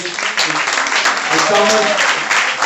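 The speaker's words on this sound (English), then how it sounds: "Give her a round of applause" Audience applause and cheering fill the room, a dense steady clapping with voices mixed in.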